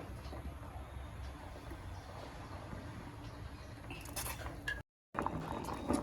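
A pot of food boiling with turmeric and oil: steady, dense bubbling and sizzling that holds evenly throughout, with a brief cut near the end.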